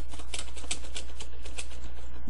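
A command is typed on a keyboard of a Windows computer in a Git Bash terminal: a quick, close, fairly loud run of crisp key clicks over a constant background hum, with no voices.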